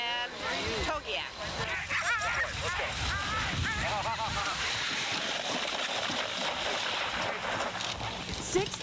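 Sled dogs bark and yip at a village dog race in Alaska, a busy chorus of excited yelps and whines running continuously under people talking nearby.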